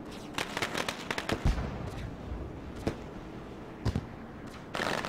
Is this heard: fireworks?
yes